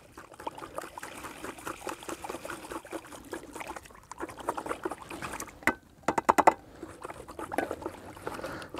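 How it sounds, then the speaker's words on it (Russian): Copper sulphate crystals are poured into hot water and stirred, giving light splashing and trickling with irregular scraping and clinking from the stirring, which sharpens near the end; no voices. "высыпаем потихонечку 100 грамм медного купороса и размешиваем"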